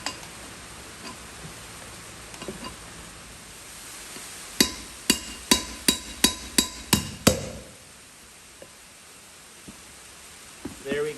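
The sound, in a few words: hammering on a brass drift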